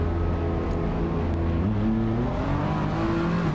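A GT3 race car in a racing game at Monza pulls out of the pit exit, its engine droning steadily and rising in pitch as it accelerates, close and loud with no talk.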